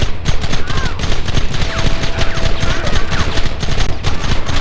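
Dense, continuous gunfire in the Red Dead Redemption video game, a rapid volley of overlapping shots that stays loud and steady throughout, with faint voices in the mix.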